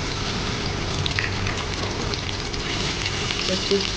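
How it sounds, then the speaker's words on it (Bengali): Whole cumin and chopped onion hit hot oil in a pan with a dense, steady crackling sizzle, close and continuous throughout. "তেলটা গরম হয়ে গেছে, এখন আমি আস্ত জিরাটা দিয়ে দিচ্ছি। সাথে সাথে আমি পেঁয়াজ কুচি দিচ্ছি।"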